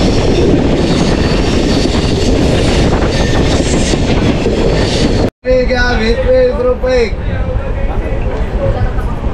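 Steady rumble and rattle of the moving Mandovi Express passenger train on the Konkan route fills the first half, then after a brief dropout a voice talks over continuing rail noise.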